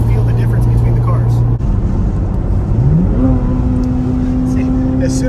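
A Corvette Z06 supercar engine switched into Z mode hums steadily, then its tone climbs and settles into a louder, higher, sustained drone, heard close from inside the car.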